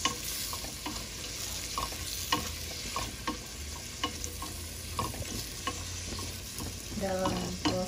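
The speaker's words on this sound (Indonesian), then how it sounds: "Ini kita aduk hingga semuanya tercampur rata" A spoon stirs broccoli and celery through a hot pan, giving rhythmic scraping strokes over a steady gentle sizzle, close and moderately loud, with a brief burst of bubbling at the end.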